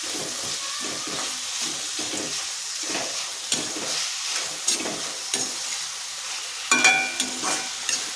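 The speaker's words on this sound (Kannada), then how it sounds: "ಸ್ವಲ್ಪ ಉಪ್ಪನ್ನು ಸೇರಿಸ್ಕೊಂಡು ಇಲ್ಲಿ ಫ್ರೈ ಮಾಡ್ತಾ ಇದ್ದೀನಿ" Chopped tomatoes with salt fry in a pan with a continuous close sizzle, broken by occasional scrapes and clinks of stirring, louder near the end.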